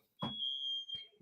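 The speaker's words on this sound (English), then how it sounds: "And the smoke detector is off." A smoke detector emits a single piercing high-pitched electronic tone lasting about half a second, with a brief thump before it and faint voice sounds after.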